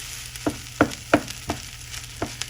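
Spam fried rice is stirred in a hot pan, with a steady soft sizzle broken by about seven sharp scraping clacks of the utensil against the pan, spaced unevenly and heard close up without talk.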